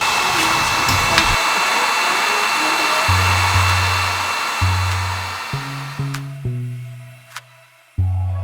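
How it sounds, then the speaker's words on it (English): A heat gun blows on body filler on a car fender, a loud, close, steady whirring roar that switches off and on in short bursts toward the end. "you can take some heat from a heat gun and you'll see"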